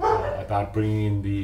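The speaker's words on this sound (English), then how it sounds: "Sorry, my dogs are going off here." Several dogs bark and yip indoors close by, sharp repeated barks overlapping with someone talking through them.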